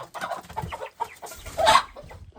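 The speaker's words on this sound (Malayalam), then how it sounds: "കോഴിക്കളൊക്കെ ഉണ്ട് കേട്ടോ ഇതിൽ" Several chickens cluck close by in short, uneven bursts, one call rising louder near the end.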